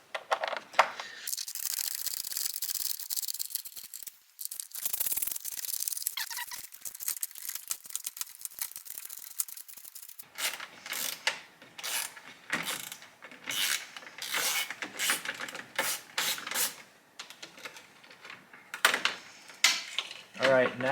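Torx T20 bolts being worked loose from a 360 camera mount on a 700hp Audi D4 S8, heard as close, intermittent ratcheting clicks and small metallic rattles in irregular bursts, with occasional talk.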